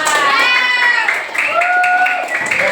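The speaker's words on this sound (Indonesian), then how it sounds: "Tepuk tangan untuk kelas 5" Elementary classroom students clap for class 5, scattered claps mixed with children's voices and a teacher's tonal voice over them.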